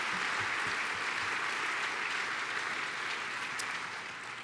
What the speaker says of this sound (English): let's give them both one more loud round of applause